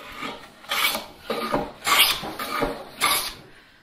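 A hand plane shaves and flattens twisted wood stock for a workbench build, with five or six loud, close rasping strokes in an even rhythm and short pauses between them, and no talk.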